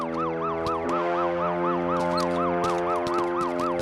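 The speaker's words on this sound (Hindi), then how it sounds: "एम्बुलेंस आई है" A wailing ambulance siren sweeps up and down in a steady, rapid rhythm, loud and close throughout the scene, with crowd bustle and a few faint knocks underneath.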